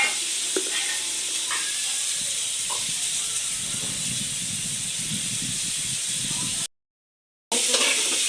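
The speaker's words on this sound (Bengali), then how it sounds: "আলুগুলো ভাজা হোক।" Potatoes fry in a pan, giving a continuous, fairly loud hiss and sizzle with a few faint clinks. The frying briefly drops out to silence before resuming.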